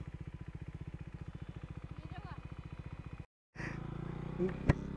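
A motorcycle engine putters steadily while riding, near and fairly loud, with a rhythmic pulsing idle-to-cruise note, briefly cutting out before resuming with road noise and a sharp click.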